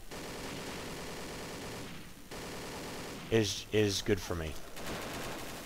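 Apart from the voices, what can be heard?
gunfire in video game Mission Against Terror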